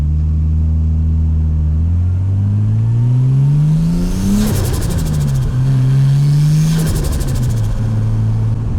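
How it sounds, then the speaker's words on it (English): A turbocharged Nissan Skyline engine revs up under acceleration with rising pitch through gears, a loud steady drone punctuated by two fluttering turbo bursts at shifts, heard from inside the car. "I love this turbo, man, it's cool."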